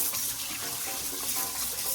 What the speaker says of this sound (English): So I washed it off like this over cold water.